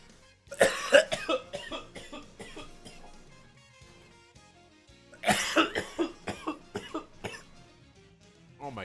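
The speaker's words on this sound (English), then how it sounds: "I'm gonna cough really hard now." Hard, harsh coughing fits after smoking old kief from a bowl, two loud bursts of several rapid coughs each separated by a quiet pause, close to the microphone with no speech.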